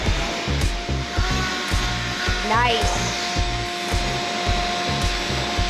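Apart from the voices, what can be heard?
vacuum cleaner running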